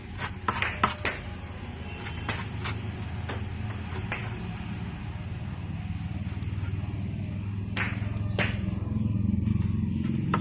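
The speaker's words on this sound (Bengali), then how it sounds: "এবার আমরা পেছনের দিকের খোসাগুলোকে আস্তে আস্তে ছাড়িয়ে নিচ্ছি" A knife clinks and scrapes as the back skin is peeled off a green jackfruit, with a cluster of sharp metallic taps at the start and a few isolated clinks later over a low steady hum.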